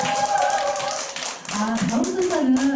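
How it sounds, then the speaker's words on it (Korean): Clapping from an audience at a beauty club meeting in thanks for a speech, short and close, with a voice speaking over the claps partway through. "스피치 해주신 우리 백만장자 사장님께 감사의 박수 부탁드리겠습니다."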